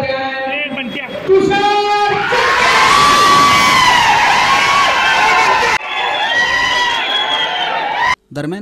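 A loud crowd of supporters cheers, whoops and shouts in celebration after Tushar Jakka's election as president of a Padmashali youth organisation, with gulal thrown. The roar is continuous and close, with voices and children's shouts mixed in.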